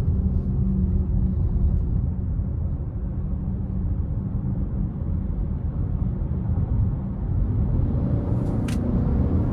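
A 2023 Chevrolet Blazer Premier with a 3.6L engine accelerates in sport all-wheel drive mode, a steady, loud low engine rumble and road drone heard from inside the cabin, continuous throughout with no talking.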